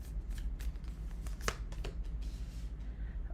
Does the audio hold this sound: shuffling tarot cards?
yes